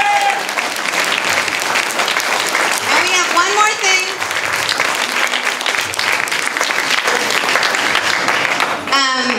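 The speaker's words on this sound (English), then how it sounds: "so if you can please give them a round of applause." Seminar audience gives a sustained round of applause in a hall, steady and fairly close, while someone talks over the clapping.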